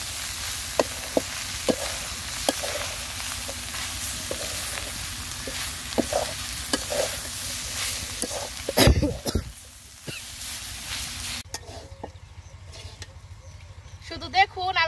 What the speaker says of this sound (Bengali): শুধু দেখুন আমি মাংসটা কত সুন্দর করে একদম ঝুরঝুরে করে ভেজে নিছি।